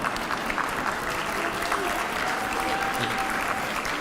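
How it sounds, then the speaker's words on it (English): Applause from the audience at a school district State of the District event, a dense, steady wash of clapping held at an even, moderate level for a few seconds, with a murmur of voices beneath. "Let's give them all a round of applause, though, for their decisions."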